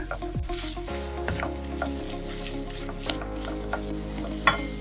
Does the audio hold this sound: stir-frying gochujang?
yes